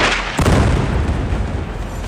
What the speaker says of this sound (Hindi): बेरूत में यह धमाका तब हुआ